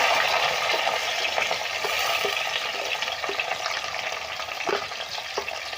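Ginger, garlic, shallots and green chili fry in hot oil with crackled fenugreek in a pan over a wood-burning stove, giving a loud, steady sizzle with occasional stirring scrapes and no talk.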